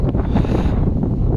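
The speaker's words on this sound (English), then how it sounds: "Sorry about the wind, guys, but it is like fucking gale force winds." Gale-force wind buffets the microphone outdoors beside a Peugeot 308 under repair, with a loud, rumbling roar that stays constant throughout.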